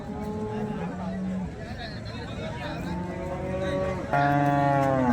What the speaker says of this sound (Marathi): जबरदस्त अशी ही मोठ्या मापाची ही गाय आहे